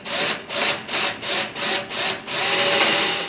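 A power drill bores holes through a wooden holiday yard decoration, its loud grinding pulsing in six short rhythmic bursts before settling into one longer sustained drilling pass, close by with no voices.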